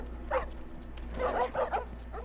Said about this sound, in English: It's fucking dogs, man.